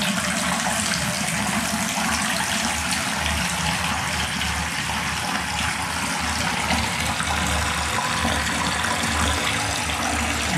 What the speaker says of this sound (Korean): 물이 소용돌이가 치면서 배수가 되고 있네요